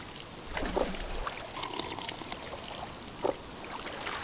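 Drinking water in the survival video game Miasmata, heard as two short gulping, splashing bursts a few seconds apart over quiet ambient background.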